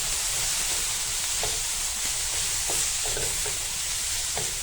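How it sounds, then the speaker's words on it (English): Prawns stir-fry with garlic on high heat, giving a steady, loud sizzle and hiss throughout, broken by a few light scraping clicks from stirring. "Just give it a quick stir, like this, on high heat."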